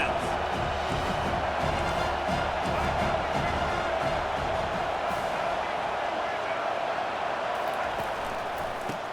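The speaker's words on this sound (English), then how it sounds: "This crowd trying to make life miserable for this offense." Steady stadium crowd roar in EA College Football 25 during a Penn State vs UCLA game, a dense, constant wash of noise running under continuous commentator talk.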